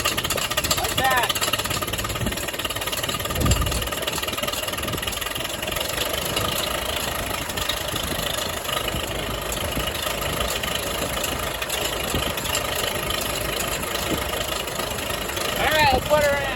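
A 1962 Farmall 560 tractor engine idles in a steady, continuous rumble that holds at an even level throughout, with people talking over it.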